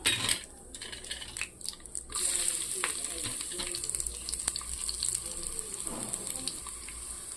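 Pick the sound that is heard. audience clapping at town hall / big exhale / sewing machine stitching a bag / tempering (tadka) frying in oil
tempering (tadka) frying in oil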